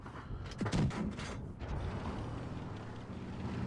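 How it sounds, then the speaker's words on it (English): A Valentine Tier 4 British light tank fires its cannon in World of Tanks Blitz: a couple of muffled booms in quick succession early on, then a low rumbling battle ambience with no talking. "You can see we are just pumping in the shots."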